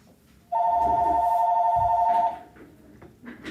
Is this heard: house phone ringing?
yes